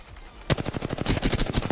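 Rapid automatic gunfire in the Apex Legends video game bursts in after a short quiet start, a dense, loud string of close shots with no talking.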